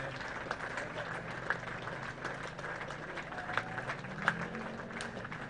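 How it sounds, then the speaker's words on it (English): Spectators at a West End T20 Cup Final cricket match between Port Adelaide and East Torrens applaud the end of a 110-run innings, a faint, steady patter of distant clapping with a few sharper individual claps. "we'll pick up the noise of the crowd as they applaud a wonderful innings from Austin Umperston out for 110"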